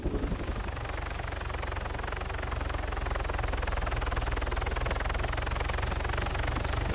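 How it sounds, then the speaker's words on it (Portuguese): Rapid rhythmic thumping of helicopter rotor blades in Arma 3, steady and fairly loud as the aircraft passes close overhead, with engine whine throughout. "O nosso helicóptero tá em cima de você."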